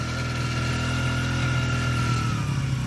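A motorcycle engine idles steadily up close, a constant low throb with a faint whine and no speech, while smoke pours from its exhaust silencer.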